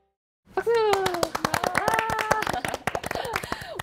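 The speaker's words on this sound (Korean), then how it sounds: "박수!" A lively burst of clapping from a small group, sharp irregular claps starting suddenly after a moment of silence, mixed with cheerful voices and laughter over the top.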